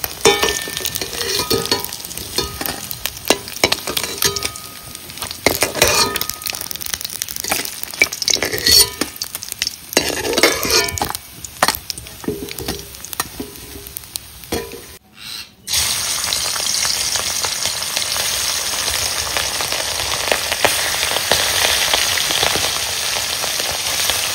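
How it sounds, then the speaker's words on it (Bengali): Pieces of a large rohu fish sizzle and crackle steadily in hot oil, with scraping and clattering of stirring throughout and no talking. "একদিকে মাছ ভাজা হচ্ছে"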